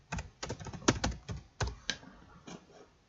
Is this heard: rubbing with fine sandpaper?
no